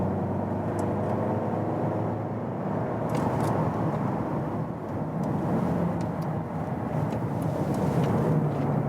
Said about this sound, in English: Well, we're driving the Alltrack,